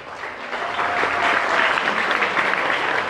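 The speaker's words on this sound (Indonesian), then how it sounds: "ini yang tepuk tangan yang males-males nih," Students at an Islamic Quran boarding school applaud in a steady, dense wash of hand claps that holds at an even level throughout, sounding somewhat listless rather than energetic.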